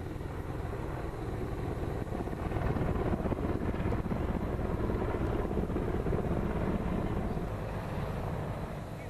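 Chinook and Apache military helicopters produce a steady, continuous rotor and engine drone that holds at an even level throughout, with a faint wind-like rush and no voices.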